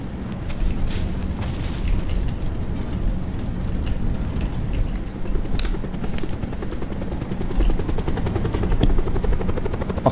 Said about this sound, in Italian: Diciamo che con l'elicottero ci spostiamo molto più velocemente